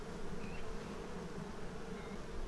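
Honeybees droning steadily around an open hive while the frames are checked, a continuous close, low buzz with no talk over it.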